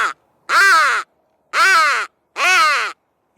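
Three loud, close, harsh crow caws from a decoy caller, evenly spaced about a second apart, with a cut-off fragment of a fourth at the very start.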